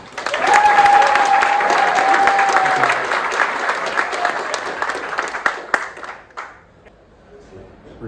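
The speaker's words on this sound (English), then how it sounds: "Please give a round of applause for Willem" Conference audience applause greets a speaker at a commerce event, a dense, steady wash of clapping that holds for several seconds. It thins into scattered claps and trails off near the end, with a faint tone and some voices in the background.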